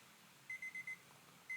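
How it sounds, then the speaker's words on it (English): Sonoff iHost smart home hub sounding its alarm chime during a network outage: a faint run of four short, evenly spaced beeps, a brief pause, then another beep starting, in a quiet room. "I hope the alarm sound came through the microphone."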